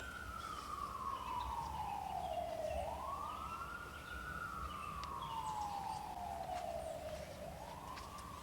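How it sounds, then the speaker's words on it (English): A rescue squad siren wails, sweeping slowly down and back up in long cycles, steady and fairly loud, with faint background noise beneath it. "It seems like every place we go, we hear sirens."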